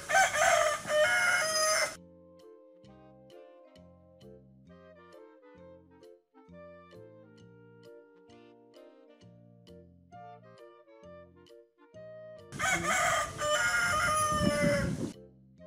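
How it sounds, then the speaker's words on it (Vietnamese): A rooster crows loudly at the start and again near the end, each cock-a-doodle-doo standing alone, with a gentle children's melody playing between the calls. "Con gà trống kêu thế nào?"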